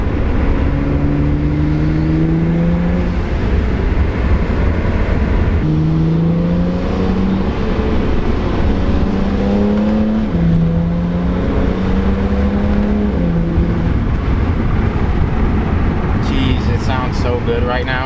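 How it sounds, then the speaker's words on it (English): BMW E92 335is engine with VRSF dual cone intakes and a new valve cover, revving in steady low rising and falling pulls, close and continuous, with someone talking over it. "I can hear the intake spooling. That shit sounds sick."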